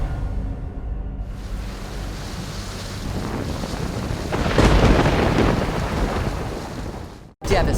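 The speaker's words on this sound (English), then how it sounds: "Rain just whipping pretty wild out here." Hurricane weather on a news broadcast: heavy wind roars and buffets the microphone while rain whips steadily, growing louder partway through and then cutting out abruptly near the end, with no voices heard.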